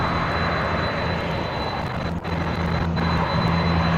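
A Qatar airliner rolls for takeoff at Sydney Airport, its jet engines a loud, steady broadband roar that holds throughout with little change, heard from nearby.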